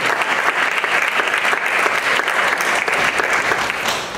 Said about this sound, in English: So if we could go give them a little bit of a round of applause.